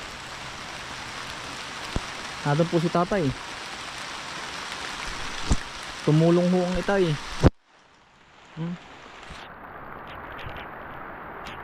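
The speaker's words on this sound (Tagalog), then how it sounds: "Sa ulan ng kaulanan na yan oh." Steady heavy rain hisses over a farm field throughout, with voices talking over it in short bursts before the downpour briefly drops away.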